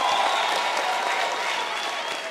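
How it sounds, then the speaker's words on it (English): A graduation ceremony audience at the University of South Africa applauds in a dense, even roar of clapping that continues throughout, with a faint tonal hum beneath. "Let's clap to that."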